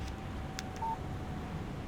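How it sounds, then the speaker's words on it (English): A phone text message alert sounds in the video game Alan Wake, a few short electronic beeps and tones over a steady low background hum. "Text message from Barry."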